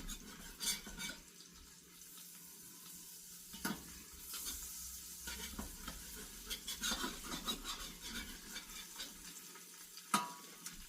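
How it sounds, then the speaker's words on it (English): A utensil stirs and scrapes browned bits off the bottom of a frying pan while making pork Marsala. Soft sizzling runs underneath, with scattered clinks and scrapes against the pan and no talking. "I'm kind of loosening up, you know, any of the brown bits here on the bottom."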